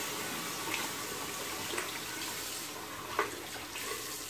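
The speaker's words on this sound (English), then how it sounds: "Just rinse this off real quick." A Gillette razor gets rinsed under running sink tap water, a steady soft stream of faucet water with a few faint clinks and splashes, heard alone.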